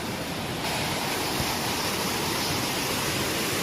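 Ananthagiri waterfall near Araku Valley, water sliding down over broad flat rock, gives a steady, loud, full-bodied rush that swells slightly after the first half-second and holds unbroken, with no voices.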